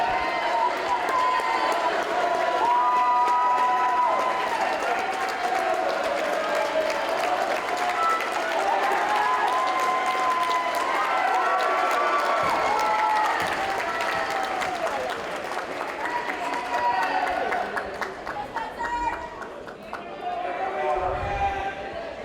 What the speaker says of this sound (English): And we're just waiting and getting some good applause